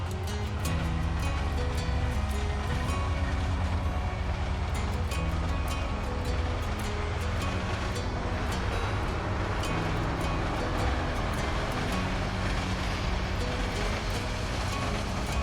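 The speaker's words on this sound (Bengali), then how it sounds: "একটি দ্রুতগামী ট্রেন যাচ্ছে খুবই দ্রুতগামী" A fast train rushes past at close range, a loud, steady roar with rumbling low end and rapid rhythmic clatter running unbroken for the whole stretch, with no voices over it.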